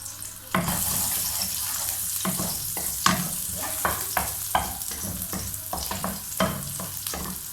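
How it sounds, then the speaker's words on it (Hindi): Garlic and vegetables fry in oil in a pan, a continuous soft sizzle broken by repeated scraping stirs at an irregular rhythm, close and fairly quiet. "ये लहसुन इसमें डाल देंगे, इसको थोड़ा सा फ्राई करेंगे।"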